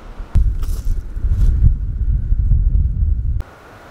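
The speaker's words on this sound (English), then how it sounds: "It's a little windy," Gusty wind buffets the microphone at a lakeside backcountry campsite, a loud low rumble that rises and falls for about three seconds before cutting off abruptly.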